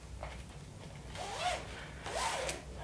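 Separating zipper on a sewing project being slid closed, a few short scratchy zips in quick strokes, close up and fairly quiet against a soft room background.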